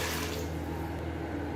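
About a glass of water pours steadily into a pressure cooker holding mutton, onion and ginger-garlic paste, a close, continuous rushing splash with no voices.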